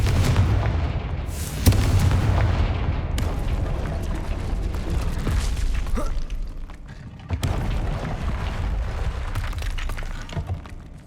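Confringo fire spell blasts in Hogwarts Legacy, loud booming, crackling explosions with sharp impacts near 1.7 s and 7.4 s over a dense, continuous roar of game combat effects.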